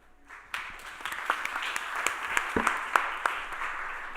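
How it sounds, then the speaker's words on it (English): An audience applauding at a startup showcase event, a moderate round of clapping that builds quickly and holds steady for a few seconds, heard from a little distance. "Another warm round of applause, though, please."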